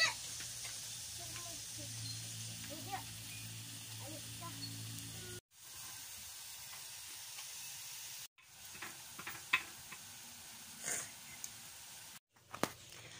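Bihon noodles cooking in a wok, a soft ongoing sizzle with scattered scrapes of a short ladle, broken by brief pauses, with faint voices in the background.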